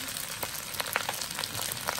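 Vegetables and fried rice for tom yam nasi goreng sizzle steadily in a hot pan, a dense continuous crackle with small pops scattered throughout, close and alone.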